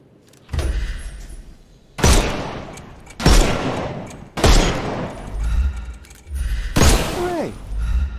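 Repeated bursts of gunfire from a Sherlock Holmes video game, five loud volleys spaced about a second apart, each a sharp crack with a ringing tail, with faint background sound in the gaps.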